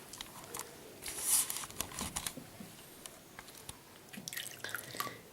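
Water drips and splashes softly in a baby's bathtub, with scattered small drops and light sloshing at close range, quiet overall.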